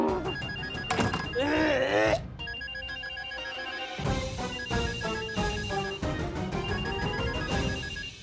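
A phone rings again and again, a melodic electronic tone cycling under and between bursts of speech.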